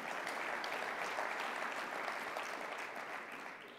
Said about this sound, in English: Well, you can clap for that.